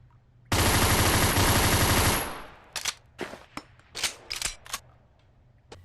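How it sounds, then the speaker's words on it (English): A TMP submachine gun in a VR video game fires one loud, continuous burst of rapid automatic shots lasting under two seconds, followed by a string of sharp, separate mechanical clicks and clacks. "there are some guns that stand out, like this TMP"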